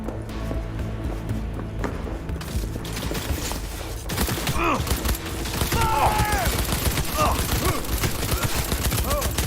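Gunfire in the video game Cyberpunk 2077: dense rapid shots and bursts keep up throughout over a steady background rumble, growing louder in the second half.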